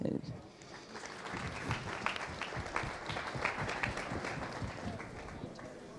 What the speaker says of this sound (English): So give a round of applause to James.